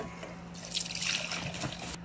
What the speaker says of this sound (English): I'm just going to pour some out into a little glass container here so we can see what it looks like